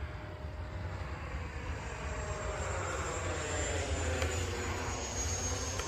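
An E-flite F-18 Blue Angels RC jet makes a flying pass, its electric ducted-fan whine a steady, moderately loud rushing hiss that swells slightly as it goes by.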